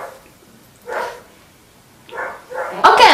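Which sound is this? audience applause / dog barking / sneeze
dog barking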